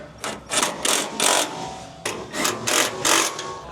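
A small 1/4-inch driver snugs down screws on Can-Am flatbed side rails, giving two groups of short, sharp whirring bursts in quick succession, close and clear, with no talking.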